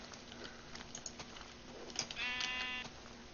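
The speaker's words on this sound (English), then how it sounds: "Where'd that sheep go?" A sheep in Minecraft bleats once, a short wavering cry over soft clicking keyboard taps, fairly faint and without talk.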